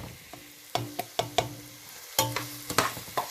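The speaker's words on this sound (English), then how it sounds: "We're going to give that a little stir up." Fresh garlic being stirred in a pot for vegan jambalaya: a series of sharp scraping and clacking strokes from the spoon, irregularly spaced and close up, over a soft sizzle with no talking.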